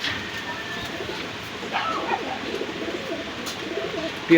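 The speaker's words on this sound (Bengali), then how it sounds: "খুব সুন্দর কোয়ালিটির একটা পিরিসপুরি কবুতর" Pigeon cooing at a Khulna bird fair where Pakistani high-flyer pigeons are shown for sale, soft coos amid a busy crowd murmur and background clatter, moderately close.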